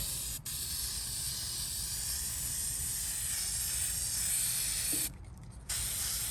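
Rust-Oleum hammered spray paint hisses steadily from the can onto a 1955 Westinghouse fan cage, one long continuous close spray broken by a short pause near the start and a brief gap toward the end.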